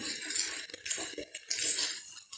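Noodles being stirred together with masala in a pan, giving a steady run of scraping, clinking utensil sounds against metal with soft wet shuffling, fairly close and continuous, no voices.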